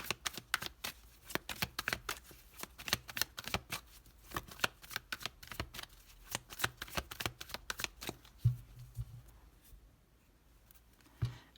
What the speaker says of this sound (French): Je vais poser les 6 cartes.